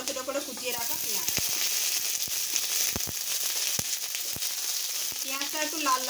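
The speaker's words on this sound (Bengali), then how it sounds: "পেঁয়াজটা একটু লাল লাল করে ভেজে নেব।" Chopped onions fry with ginger and garlic in a hot pan, giving a steady close sizzle broken by sharp crackles and stirring clicks, with a brief voice at the start and end.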